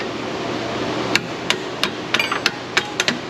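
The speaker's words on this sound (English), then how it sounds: "Everything is a hammer except for my screwdriver." Metal hammer strikes on a part of a damaged Chrysler Pentastar 3.6 engine near a V-band style clamp, about ten sharp close taps in uneven rhythm over a steady background hum.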